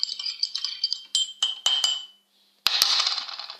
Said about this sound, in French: prends une cuillère ou n'importe quoi qui puisse remuer pour bien remuer le sel